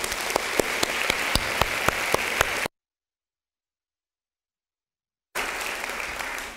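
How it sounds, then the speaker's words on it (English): Audience applause at a fall university convocation ceremony, a steady wash of clapping with crisp individual claps on top, cutting out to silence partway through and then resuming. "Could maybe give them a round of applause."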